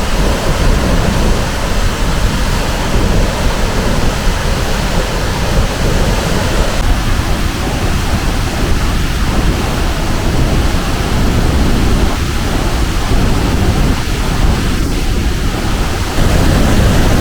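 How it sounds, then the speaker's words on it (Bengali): Loud, steady roar of water rushing and crashing from open dam lock gates in Purulia during the monsoon, a dense continuous wash of noise with no voices. "এখানে লক গেটগুলো খুলে দেওয়া হয়েছে আর প্রবল বেগে জলরাশি আছড়ে পড়ছে"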